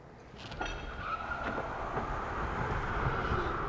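2022 Ford Lightning XLT electric pickup accelerating on an indoor test track, a faint rising whine and tyre roar that builds steadily over a few seconds, with no voices.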